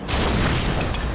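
A nest being destroyed in the fantasy action game The Witcher 2: Assassins of Kings, heard as one dense, booming explosion that fills the whole moment at close range, with no speech.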